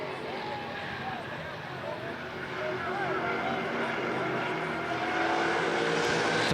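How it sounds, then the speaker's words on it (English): Race cars roar off the green flag at the Winchester 400, a steady, swelling engine drone that builds over the lap start while a commentator talks throughout. "We are off and racing for 25 circuits"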